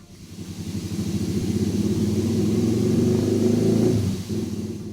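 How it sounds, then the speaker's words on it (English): A Honda Monkey JB03 with a Kitaco 145 engine revs on a dyno, a steady throaty drone climbing in pitch for about four seconds before the throttle eases off, loud and close with no talk. "One final lighter throttle check to make sure before we go flat out."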